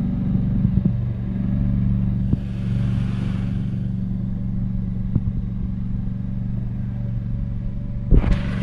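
Scag V-Ride 2 stand-on mower running steadily nearby, a constant low engine rumble with a few sharp clanks and a brief louder burst near the end.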